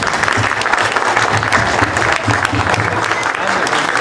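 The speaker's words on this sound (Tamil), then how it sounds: "இவங்களுக்கு எல்லாத்துக்கும் இந்த வானமே அதிர்ற மாதிரி ஒரு கைத்தட்டல் கொடுங்க பார்க்கலாம்" Loud, dense audience applause at a drama event, a steady roar of many hands clapping close by, lasting throughout with faint crowd voices beneath.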